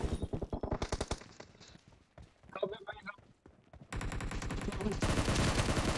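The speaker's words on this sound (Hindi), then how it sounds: "ओ भाई कौन गोली चला रहा है इतना फालतू में" Rapid automatic gunfire in the PUBG video game, with fast repeated shots rattling in bursts, then a louder sustained volley near the end, while someone talks in the pauses between bursts.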